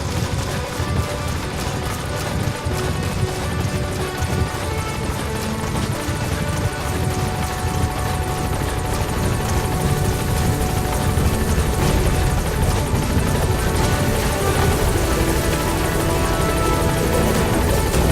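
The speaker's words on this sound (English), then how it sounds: "Support helicopter has arrived." A support helicopter touches down in the Metal Gear Solid V video game, its loud, steady rotor roar filling the scene continuously and close by, with no talking over it.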